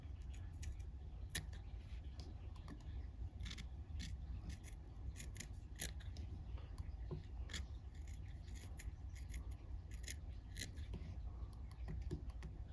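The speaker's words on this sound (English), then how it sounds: "I'm going to take a sharp scissors, and I'm going to start trimming these." Steady snipping of sharp scissors trimming fly-tying material, many quick cuts in an irregular rhythm, close up, with a faint rustle of material and no talking.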